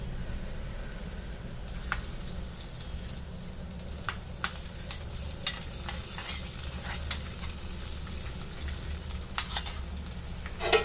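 Cashews and raisins fry in ghee with a soft, steady sizzle, broken by occasional light clicks and scrapes of a spoon stirring the pan, quiet and close, without talk.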